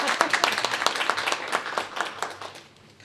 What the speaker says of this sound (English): We'll give that a round of applause.